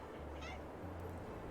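Pet cat in a farming game, meowing once or twice at low volume over a constant droning engine hum.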